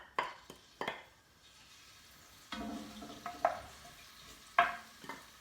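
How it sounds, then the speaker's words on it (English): Garlic sizzles faintly in a frying pan at a home stove, a soft background fizz broken by sharp utensil clinks and stirring scrapes against the pan. "slight sizzle there"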